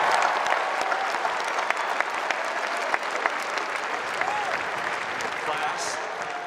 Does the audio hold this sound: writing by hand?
no